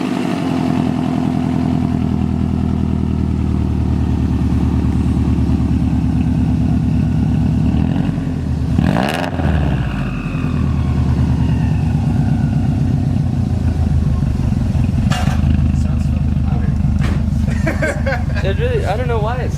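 A car engine starts for the first time after a boost solenoid install and settles into a loud, rough, steady idle close by. Voices talk over it throughout.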